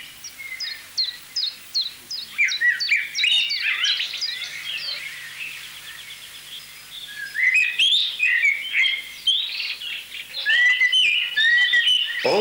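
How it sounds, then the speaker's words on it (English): Two songbirds, a nightingale and a blackbird, sing together in the mountain woods of Vitosha, with rapid chirps, trills and fluting whistles that rise and fall continuously at close to moderate range, with no one speaking. "A prominent singer, the nightingale, is competing with another one,"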